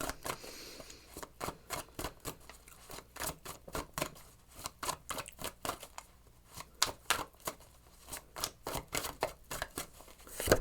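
Tarot cards handled, shuffled and drawn from a deck up close: a dense run of crisp snaps, flicks and papery slides in an irregular rhythm, with no voices.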